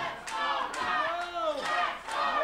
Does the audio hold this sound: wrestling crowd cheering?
yes